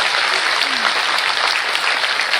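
A large crowd at a state-level Teelu Rauteli women's award ceremony breaks into loud, sustained clapping, a thick unbroken roar of hands with no pauses.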